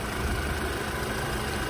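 A 2012 Audi A4 2.0-liter turbo S-Line with all-wheel drive and an automatic transmission runs at idle. It gives a steady, even engine hum with a faint high whine and no voices.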